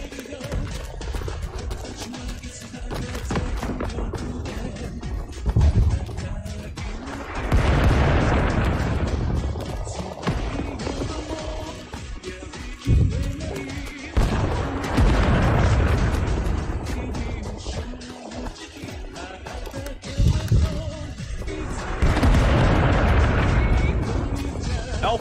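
Artillery fire-support shells land in Rising Storm 2: Vietnam during the Australian defence of Long Tan, as a series of heavy booming blasts with rumbling tails rolls in every few seconds over a constant din of battle.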